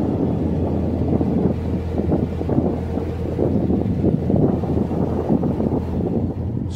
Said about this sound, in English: But the wind's playing havoc now. It's quite windy here.